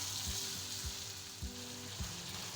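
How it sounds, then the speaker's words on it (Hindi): Yogurt fries in a pan for a chicken fajita filling, making a faint, even sizzle with soft periodic stirring thumps about every half second, and no voices. "दही डाल के इसको मैं थोड़ा सा भूनूंगी 2 से 3 मिनट अच्छे से"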